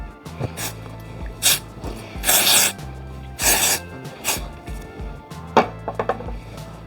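Dollar General Root to End dry shampoo sprayed onto the hair roots: several short, close hissing bursts, some longer than others, separated by quieter rustling and handling noises.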